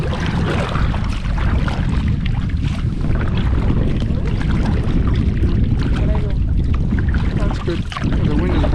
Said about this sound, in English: The wind is blowing us to the side.